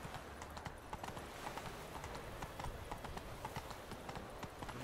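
Horse hooves clip-clop at a steady trotting rhythm in The Witcher 3 video game, quiet and fairly even.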